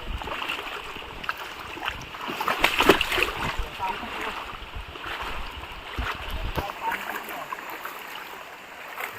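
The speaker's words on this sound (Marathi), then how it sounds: "आता नदीतून चाललोय" Footsteps wade and splash through the shallow water of a village river, a steady broken sloshing of water with a louder burst of splashes near the middle, close by and fairly continuous.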